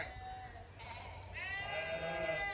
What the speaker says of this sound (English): There's my wandering sheep.